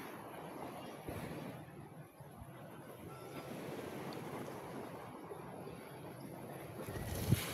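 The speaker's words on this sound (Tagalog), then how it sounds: "Yan po yung ating dalampasigan." Surf along a beach shoreline, a soft continuous wash of waves with wind buffeting the microphone, steady and fairly quiet throughout, no talking.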